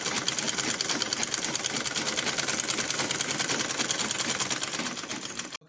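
A sewing machine stitches a shirt, running in one continuous rapid mechanical whir with a fine regular ticking, moderately quiet and steady until it stops abruptly at the end.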